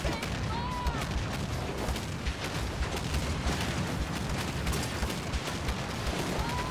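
Ship cannons boom in a naval battle in the video game Skull and Bones: a dense, continuous barrage of loud, overlapping blasts and rumbling impacts with no pause.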